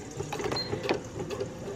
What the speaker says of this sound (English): sewing machine, and so I am just going to go ahead and stitch 3/8 of an inch at that center back